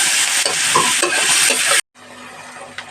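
Ginger-garlic paste and onion paste stirred in a frying pan for soya curry, a close, steady scraping and sizzling for nearly two seconds before a cut to a quieter hum.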